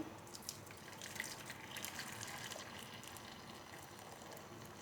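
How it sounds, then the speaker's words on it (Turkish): Cooking water is strained off boiled dough for a cold yogurt soup, heard as a faint, steady trickle and gush of pouring water. "Şimdi bunun suyunu şu suyu biraz süzeceğim."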